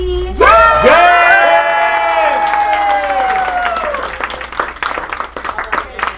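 A group at a team meeting cheers and whoops with rising, sustained voices, then breaks into scattered clapping and chatter that fades over a few seconds.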